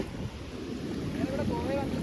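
Sea waves and wind at a beach in Goa, a steady broadband wash of surf with wind buffeting the microphone, continuous and fairly loud throughout.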